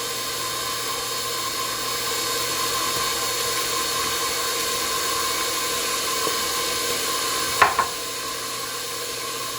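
A stand mixer whips mashed potatoes with cream, butter, salt and black pepper, giving a steady droning whir that runs alone throughout, with a brief knock near the end.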